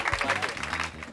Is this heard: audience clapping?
yes